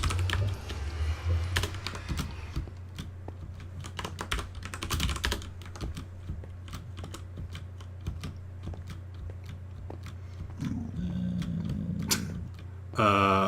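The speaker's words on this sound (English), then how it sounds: "Oh, typing." Close, irregular clicking of computer keyboard keys in quick bursts and short pauses, with a low steady hum beneath and a brief sound at the very end.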